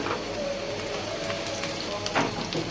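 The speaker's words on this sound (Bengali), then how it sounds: "ভাজতেছি একটু রসুন আর একটু আদা বাটা দিলাম" Garlic and ginger paste sizzles in hot oil, a dense, continuous crackling hiss heard close up with a few faint clinks and no talk.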